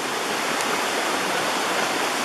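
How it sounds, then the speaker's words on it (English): Waterfalls in Joyce Kilmer Memorial Forest in Nantahala rush in a steady, dense hiss of falling water, continuous and fairly loud with no other sounds. "which has a whole bunch of beautiful waterfalls"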